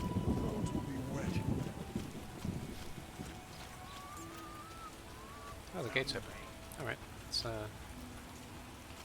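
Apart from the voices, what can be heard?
rain and thunder in the video game The Witcher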